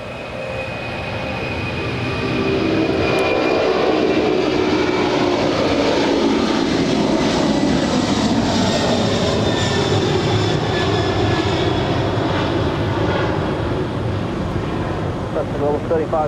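A heavy jet airliner departs Los Angeles International, its engine roar swelling over the first few seconds and then holding loud and sustained, with a sweeping tonal whine and some chatter underneath.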